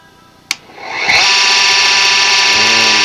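A wood lathe spinning up to turn a pre-formed stem: a sharp click, then a rising motor whine that settles into a loud, steady high-pitched hum.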